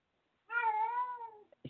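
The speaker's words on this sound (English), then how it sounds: "I hear your kitty cat." A house cat gives one long, clear meow that holds steady and then trails off, close and fairly loud against a quiet room, with a faint knock right after it.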